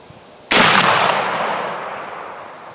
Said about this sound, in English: let's line everything up and we'll try a shot from 100 yards